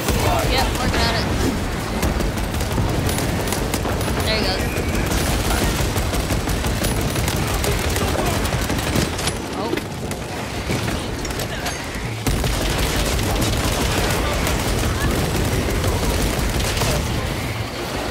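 Gunfire and explosions in the video game Warhammer 40,000: Space Marine II, dense bursts of shots and booms running continuously at high level, mixed with game voices.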